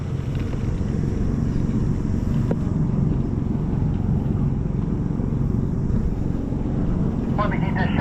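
Farm tractor engine idling nearby, a loud, steady low rumble that holds constant throughout.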